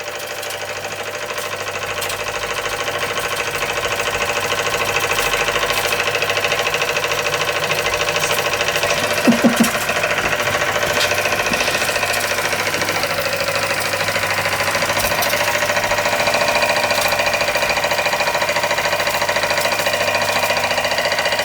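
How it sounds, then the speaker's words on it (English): A small Kassner vertical-boiler model steam engine runs under steam with a continuous, even mechanical chugging and hiss. The sound stays close and steady throughout, with a brief knock partway through. "the little Kassner engine running under steam for the first time since I got it, and it runs very well indeed"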